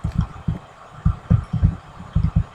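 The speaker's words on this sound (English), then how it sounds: "it was making actual slime sound" Soft, squelchy low thumps in irregular pairs and clusters from a slime creature in a video game, like a small wet creature bouncing nearby; no voices.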